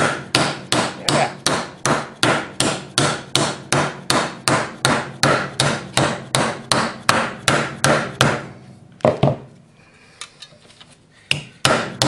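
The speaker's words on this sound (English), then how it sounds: "I'm going to hammer this sucker again." Rapid, steady hammer blows on sheet metal while forming a Pietenpol aircraft elevator horn, roughly two dozen loud, evenly spaced strikes close up, then a pause with a few scattered taps and light handling noise.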